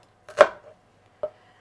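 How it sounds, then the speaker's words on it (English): A knife chops an onion on a board: two distinct close thuds about a second apart, the first a quick double hit, with quiet between and no talk. "I'm starting with cutting up my onion, or chopping up my onion"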